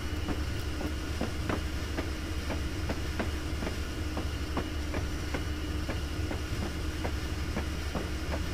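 A WP FP7 locomotive and its train roll along the Feather River line in Train Simulator 2016, with a steady low rumble and regular clickety-clack wheel beats on rail joints, close and continuous throughout, without talk.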